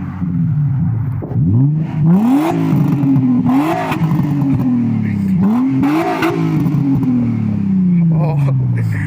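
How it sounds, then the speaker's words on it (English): A Nissan 350Z's V6 engine with an aftermarket Powerflow exhaust revs repeatedly, pitch swooping up and down with a throaty exhaust growl, loud and close throughout. "it's a power flow exhaust. So let's see what modified sounds like compared to stock"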